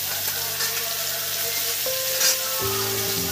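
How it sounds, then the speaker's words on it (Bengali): Potatoes and cauliflower fry in oil left from cooking catla fish, a loud continuous sizzle close by, with soft stirring and steady background music tones underneath. "এই মাছেরই তেলে আলু আর ফুলকপি ভালো করে ভেজে নিলাম বন্ধুরা"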